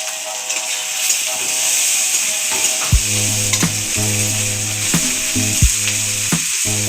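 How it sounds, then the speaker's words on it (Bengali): Chopped onion hits hot oil in a pan while a Bengali rohu fish-head muri ghonto cooks, giving a steady close sizzle with a hiss that holds throughout, alongside some tonal ringing. "কাটা পেঁয়াজটা আছে, তো পেঁয়াজটা আর কি তেলের মধ্যে ঢেলে দিলাম।"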